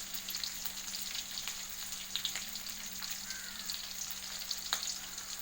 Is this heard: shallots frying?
yes